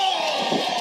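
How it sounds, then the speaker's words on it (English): A wrestling crowd at a live pro wrestling event cheers for a wrestler, a brief, steady roar of many voices at moderate level. "Crowd pumping up here for Raheem."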